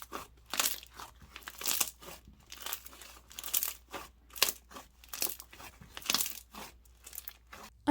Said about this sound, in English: It's got a ton of crunches, bubble pops, and of course it inflates a lot.